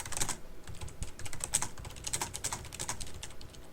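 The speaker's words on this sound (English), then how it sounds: "I can hear some nervous typing in the background." Quiet, rapid clicking of keys on a computer keyboard, irregular bursts of typing heard from a short distance.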